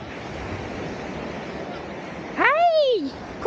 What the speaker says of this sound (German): die Wellen!